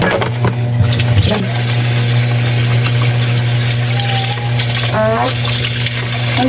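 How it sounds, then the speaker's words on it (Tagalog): Tap water runs steadily over chicken intestines being washed in a basin, a loud continuous splashing with a low motor-like hum underneath and no talking. "Ang gusto nyo, itapat nyo yung tubig sa gilid po dito sa isaw mismo."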